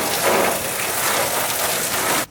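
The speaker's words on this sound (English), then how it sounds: "And then we'll rinse the car." Heavy water spray from a hose rinses a Toyota Corolla, a loud continuous hiss and patter on the bodywork that cuts off abruptly at the end.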